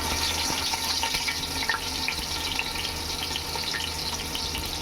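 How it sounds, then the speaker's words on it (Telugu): Onions frying in hot peanut oil for a fish curry, a steady bright sizzle and crackle that runs continuously without pause, close and fairly loud. "ఆయిల్ బాగా హీట్ అయిందండి. ఇప్పుడు దాంట్లో ఆనియన్స్ వేసుకున్నాము."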